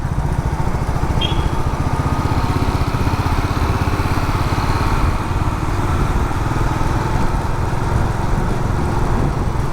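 A motorcycle riding through Pondicherry gives a steady, close engine drone with constant road rumble, unbroken and even in loudness throughout.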